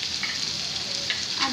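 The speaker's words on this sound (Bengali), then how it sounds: "আমি এবার এই মশলাগুলোকে কিছুক্ষণ ভাজবো" Ground ginger, coriander and cumin pastes fry in a pan for a Bengali prawn and taro dish, giving a soft, steady sizzle and hiss with a few faint stirring scrapes, and no talking.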